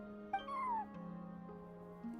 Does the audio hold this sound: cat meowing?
yes